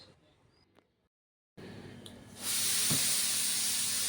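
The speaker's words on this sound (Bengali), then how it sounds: "ওইদিকে ডাল বসিয়ে দিয়েছি প্রেশার কুকারে, সিটি বাজছে" Pressure cooker cooking dal lets out steam, a quiet stretch and a brief gap giving way to a loud, steady hiss that keeps going to the end.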